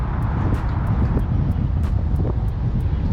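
Strong wind gusts roar across a lake, a loud steady broadband rush buffeting the microphone throughout, with brief sharper bursts.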